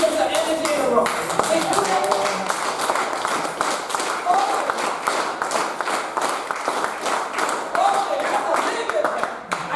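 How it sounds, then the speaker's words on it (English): Scattered audience clapping at a Gullah/Geechee community gathering, steady and fairly loud, running under a speaker's voice talking throughout. "Now, I hear some of y'all clap."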